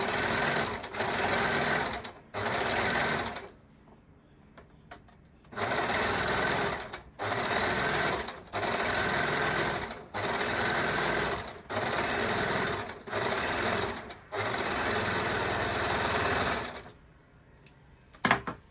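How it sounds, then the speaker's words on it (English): An overlocker sews along a skirt hem in repeated bursts of fast, whirring stitching, each lasting one to three seconds, with short pauses between runs, loud and close by. "So I'll put it under my overlocker and I will overlock it."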